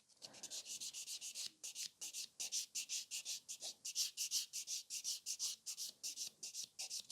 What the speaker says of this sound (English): The buffing doesn't take us long